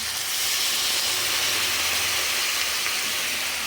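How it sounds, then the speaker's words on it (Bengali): Water splashed into frying spice masala for a Bengali vegetable curry sets off a loud, continuous broadband sizzle and steamy hiss, close up and unbroken. "এবার একটু জল ঢেলে দিলাম"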